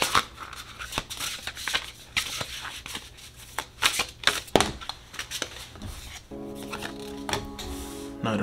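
Tarot cards are shuffled close up in a quick, uneven run of riffling flutters and soft slaps, with a short pause and a faint steady tone near the end.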